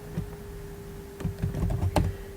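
Computer keyboard typing on a Windows 7 machine, a sparse scatter of soft key clicks that thickens into a quicker, louder burst near the end, close and alone over a steady low hum.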